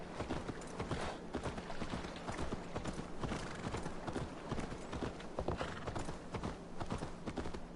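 Horse hooves clip-clopping in Assassin's Creed Valhalla, a quick, steady rhythmic stream of hoofbeats on the ground, moderately faint and continuous with no talking.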